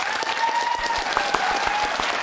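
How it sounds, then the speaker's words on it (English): A studio audience at a televised UK leaders' debate applauds steadily, a dense, sustained wash of many hands clapping at even volume while a voice carries faintly over it. "I'll give that a round of applause."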